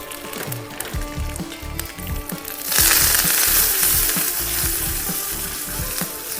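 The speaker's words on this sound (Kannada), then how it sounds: "ಸಾಸಿವೆ ಚೆನ್ನಾಗಿ ಸಿಡೀತಿದೆ" Mustard seeds splutter and crackle in hot oil with green chillies and curry leaves for a potato onion sambar tempering, with a dense close sizzle that swells loudly partway through and keeps hissing to the end.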